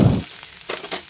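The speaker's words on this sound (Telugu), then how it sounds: "లో ఫ్లేమ్లో పెట్టుకుని ఈ పోపు సరిగా వేగే వరకు చూసుకోవాలి" Ginger pieces, green chilli and curry leaves frying in oil over a low flame for a tempering, giving a brief, soft, close sizzle with a couple of light stirring touches.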